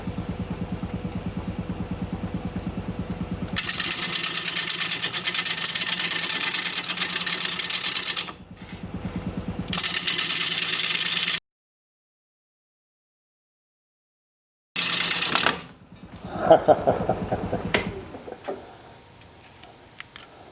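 A wood lathe runs at roughly 550 rpm while turning wood, giving a loud, steady mechanical whir that cuts out to silence partway through and then starts up again with uneven rumbling.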